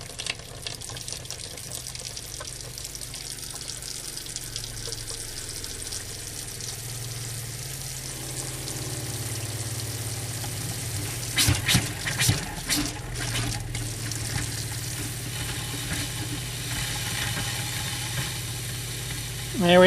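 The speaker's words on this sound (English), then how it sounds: "There we go, there's the antifreeze coming out of there." Antifreeze sputters and splashes from a travel trailer faucet fed by the onboard pump system during winterizing. A low, steady trickle turns into uneven gushes and spurts midway, close and fairly quiet.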